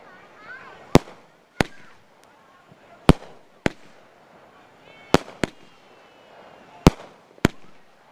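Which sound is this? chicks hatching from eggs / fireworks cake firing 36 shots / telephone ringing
fireworks cake firing 36 shots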